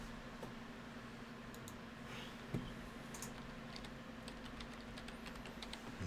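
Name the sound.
typing on a computer keyboard one-handed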